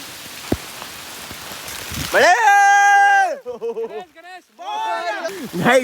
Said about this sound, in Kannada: ಭಾಳ ಅಂದ್ರೆ ಭಾಳ ಕೆಟ್ಟ ಮಳಿ ಬರತೈತಿ